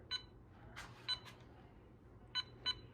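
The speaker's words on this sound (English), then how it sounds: "you'll hear a beep every time it registers" A Veise fingerprint smart lock gives four short, high electronic beeps during fingerprint setup. The beeps are fairly faint and irregularly spaced over a low background hum.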